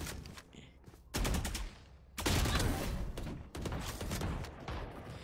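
Counter-Strike gunfire spraying in a video game, rapid bursts of automatic shots in several loud clusters with brief gaps, close and punchy.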